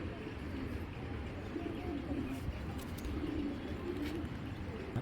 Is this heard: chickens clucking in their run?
no